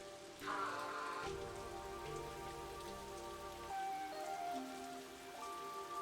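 Steady rain falls in the video game Master Detective Archives: RainCode, a constant hiss of drops that continues throughout beneath sustained musical tones.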